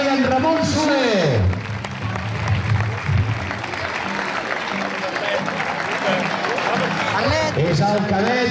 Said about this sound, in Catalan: És el cadet i es mereix aquest aplaudiment